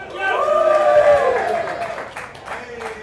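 A crowd at a live poker livestream event cheers and claps in a short burst that swells and then fades over about three seconds, fairly close and moderately loud, with a voice over it.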